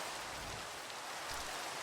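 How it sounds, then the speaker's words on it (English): Steady rain falling in the Minecraft world while playing with the Botania mod, a dense, even hiss of drops that holds constant throughout, with no talk over it. "So I hope you guys can hear me over the rain."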